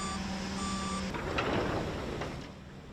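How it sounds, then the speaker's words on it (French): A truck loaded with sugar cane heads toward the Alteo mill in Mauritius, with steady engine rumble, a tonal beeping that stops after about a second, and a brief clunk amid the road noise. "un camion rempli de cannes se dirige vers l'usine Alteo"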